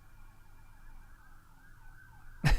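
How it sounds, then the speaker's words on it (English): Emergency sirens pass down a street outside, wailing and sweeping in pitch from a distance at moderate volume, before a sudden loud broadband thump at the end. "we got some more sirens going down the street."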